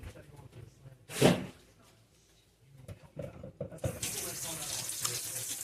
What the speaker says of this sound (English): Let's give these a rinse.